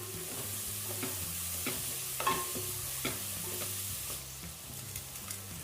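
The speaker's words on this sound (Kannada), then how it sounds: "ಅದರ ಸ್ಮೆಲ್ ಹೋಗೋವರೆಗೂ ಚೆನ್ನಾಗಿ ಫ್ರೈ ಮಾಡಬೇಕು" Coarsely ground green masala frying for ghee rice, a soft close sizzle with rhythmic scrapes of a spoon stirring through the pan, under quiet background music.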